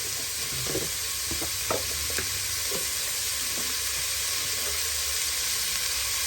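Biryani masala fries in a pressure cooker as salt goes in, a constant hissing sizzle with a few scraping stirs near the start, fairly faint and without any voices.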